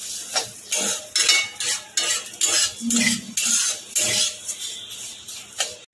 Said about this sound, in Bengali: সেমাইটাও একটু হালকা লাল লাল করে ভেজে নেব।